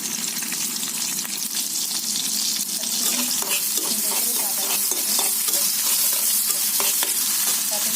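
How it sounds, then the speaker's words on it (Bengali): Onions fry in a pan with a bright, continuous sizzle, broken by repeated scraping and clacking as they are stirred, heard up close with no talking. "এরপর এক এক করে আমি পেঁয়াজ দিয়ে দিলাম।"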